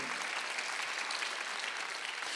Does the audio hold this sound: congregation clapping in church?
yes